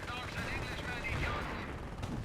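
Short-barrel Panzer IV tank gun firing in the game Company of Heroes, set amid a dense, continuous wash of battle noise with gunfire and rumbling explosions; some indistinct voice mixed underneath.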